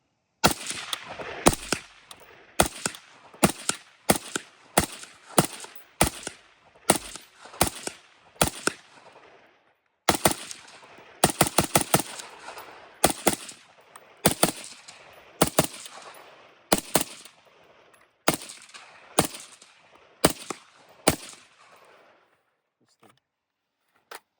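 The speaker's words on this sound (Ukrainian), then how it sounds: "Зараз інтенсивно так постріляв трошечки." Bursts of rapid gunshots from a rifle fitted with a 3D-printed suppressor, in repeated strings, sharp and close, with short pauses between volleys and a longer break midway.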